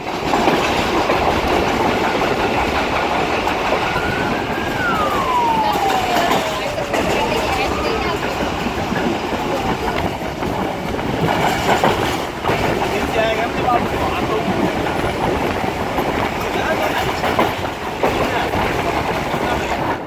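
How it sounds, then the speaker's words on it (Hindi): Sukkur Express passenger train running on the rails after leaving Karachi Cantt station, a steady loud rumble and clatter of wheels with occasional squeal, heard from inside a carriage while someone talks over it. "train exactly Karachi cantt station पर 10 मिनट स्टॉप के बाद निकल चुकी है"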